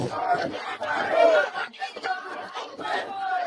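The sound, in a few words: protest crowd chanting at JNU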